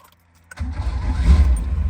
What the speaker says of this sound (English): Anyways, the motor fires right up. It sounds really good.